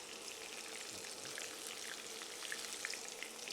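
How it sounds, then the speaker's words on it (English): Salt and pepper chilli prawns coated in corn flour frying in a pan, giving a continuous, close, crackling sizzle with fine popping spatters throughout and no talking. "Oh, listen to that sizzle."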